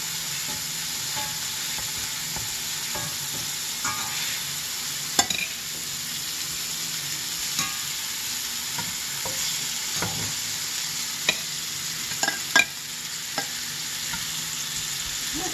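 Patties fry in a pan with a continuous, even sizzle close by, broken by occasional scrapes and light taps of a utensil pressing or turning them.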